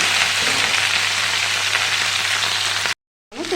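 Okra fries in oil in a wok with a loud, dense, continuous sizzling hiss close by, which cuts out abruptly for a moment before resuming briefly.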